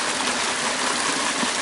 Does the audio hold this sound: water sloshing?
yes